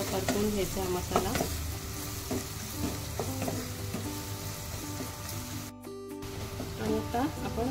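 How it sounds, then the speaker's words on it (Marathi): Homemade masala sautéing in a pan, with a steady sizzle and repeated stirring scrapes running throughout, and faint voices in the background. "एक 2 मिनिट चांगला परतून घ्यायचा हा मसाला."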